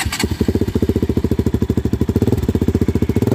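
KTM motorcycle idling with a DB killer fitted in the exhaust, a steady, loud, close-up burble of rapid even pulses that lasts throughout with no other sounds.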